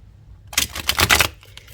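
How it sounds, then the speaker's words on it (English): A tarot deck is shuffled up close in a quick run of crisp riffling card flutters lasting under a second, alone with no talk over it. "Okay, let's shuffle."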